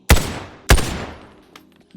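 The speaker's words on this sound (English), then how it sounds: "The gunshots, the bolt, everything sounds great." Two loud, sharp SVT-40 rifle shots ring out in the VR game Boneworks about half a second apart, each with a heavy crack and a long echoing tail, followed by faint mechanical clicks.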